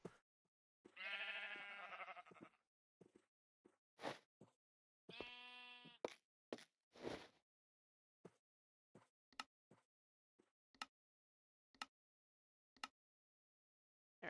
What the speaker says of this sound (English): We'll just occasionally encounter sheep, I guess